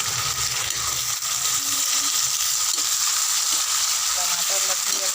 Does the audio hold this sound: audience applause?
no